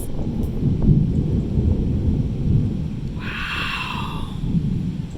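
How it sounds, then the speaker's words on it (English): Summer thunderstorm front in Tennessee, with steady rain and gusting wind roaring through trees and a low rumble of thunder building throughout, loud and close, with no talking. "Because the storm is flying in."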